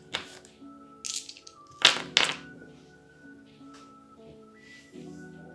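Nebelwerfer rocket launchers firing in a war game: several sharp whooshing launches in quick succession, the loudest pair close together, each leaving a whistling tone over a quiet musical background.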